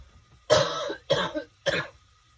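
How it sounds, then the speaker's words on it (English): Three sharp, harsh coughs from a person with a lingering illness, close to the microphone, evenly spaced with short pauses between them. "I don't know why this cough has not gone away."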